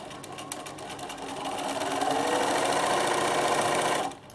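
Sewing machine stitching a ribbon gift bag with invisible thread, a steady rapid mechanical whir that speeds up and holds, then stops near the end.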